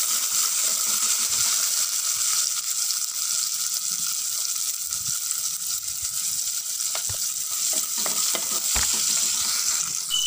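Chillies and small shallots frying in oil in a pan for a ladies finger tamarind curry, a constant loud sizzle with intermittent scraping knocks from stirring, close by with no talking.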